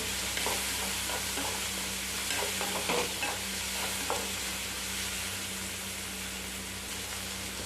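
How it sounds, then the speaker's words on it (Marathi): Turmeric sautéing in hot oil for a green chilli thecha tempering, a steady close sizzle with scattered stirring scrapes and clicks throughout, no voices. "थोडीशी हळद टाकायची छानपैकी परतून घ्यायचं आहे ते"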